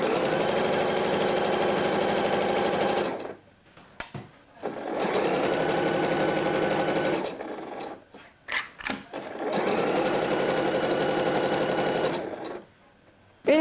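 A sewing machine stitches a dress sleeve seam in three loud bursts of rapid mechanical whirring, each running a few seconds, separated by short quiet pauses with small clicks and handling noises.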